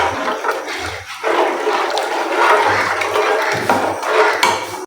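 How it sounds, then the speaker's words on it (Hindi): Water poured into a pot of simmering kadhi on the stove, a steady splashing pour running for several seconds with brief clinks of utensils against the pot. "इसमें मैं थोड़ा सा पानी और ऐड करूँगी क्योंकि मुझे पानी जो है ना वो कम लग रहा है।"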